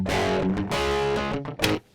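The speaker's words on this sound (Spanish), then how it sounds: "Verás que el sonido que va a generar ahora es bastante desagradable, es como muy chirriante, solamente con el cabezal." A guitar amp head played alone with no speaker cabinet, giving a harsh, fizzy, buzzing distorted tone. Loud sustained chords ring out over two seconds and then cut off near the end.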